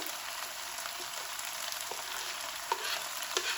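Onions fry in hot oil for a Peshawari karahi gosht, a steady bright sizzle with a few faint stirring clinks, close and continuous, no one talking.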